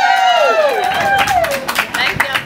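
A large crowd at a real estate office grand opening on a waterfront claps and cheers under and after a speaker's amplified voice. The clapping is dense and lively, with whoops rising over it.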